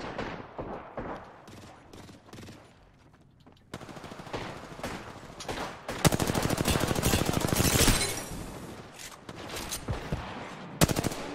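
Apex Legends weapons fire in sustained machine-gun bursts and sharp single shots, growing louder and denser midway, close and punchy, with little talk beneath.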